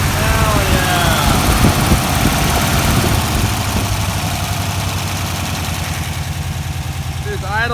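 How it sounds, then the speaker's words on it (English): A classic car engine idles with a steady, lumpy rumble, loud and close, with brief excited voices at the start and end. "It's idling."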